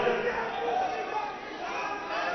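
Youth wing supporters at a political rally shout and chant as a crowd, a dense, continuous roar of many voices held at steady loudness throughout.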